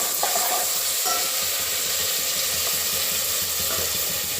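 Coconut paste with turmeric, asinafoetida, curry leaves and red chilli sautés in a pan for appe batter, a dense continuous sizzle with faint stirring scrapes and no talk.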